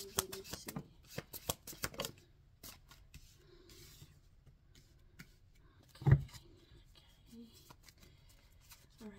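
Tarot cards are shuffled in quick riffling bursts at close range, with a louder knock or tap partway through and quiet stretches between handlings.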